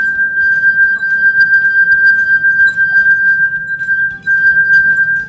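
Quarter-filled water glass made to sing by a finger circling its rim, producing a sustained bright ringing tone for several seconds over soft rhythmic rubbing scrapes, close and fairly loud.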